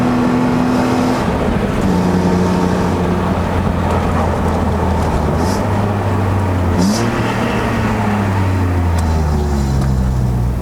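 A BMW E36 325i with a 2.5-litre six-cylinder engine and 5-speed manual climbs a mountain road at Genting, Malaysia. The engine hums and revs steadily from inside the cabin, rising in pitch through the gears, loud and continuous.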